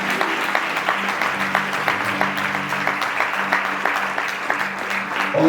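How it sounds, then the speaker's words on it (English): Wedding guests clap their hands together in a steady, rhythmic burst that runs without a break, loud and close, with a low hum of music or organ underneath. "Let's clap our hands."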